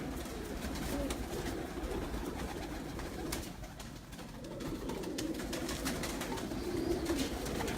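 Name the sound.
pigeons cooing on a rooftop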